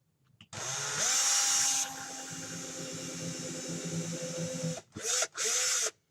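A power drill bores holes for trees in a model house base with wood underneath, whining loudly and steadily up close for several seconds before two brief final bursts.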